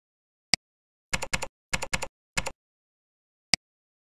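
A computer keyboard typed on to rename a folder: a few sparse, crisp keystrokes, two pairs and a single, framed by isolated clicks in otherwise silent surroundings.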